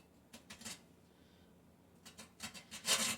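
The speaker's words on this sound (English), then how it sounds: "I'm just going to use a box grater" Grating on a metal box grater while making eggnog cookies: rough, rasping strokes come in two short bursts, a few quick scrapes early, then a louder, denser run of strokes at the end, with quiet in between.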